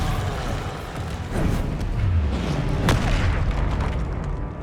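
An Incendio fire spell erupts in a Hogwarts Legacy duel, a deep rumbling boom swelling out of dense battle noise and followed by a sharper burst, with the game's combat din continuing around it.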